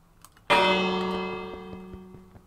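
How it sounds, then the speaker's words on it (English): A village bell in Minecraft being punched, a single loud struck chime ringing out and slowly decaying, alone. "Can I punch the bell and just take it?"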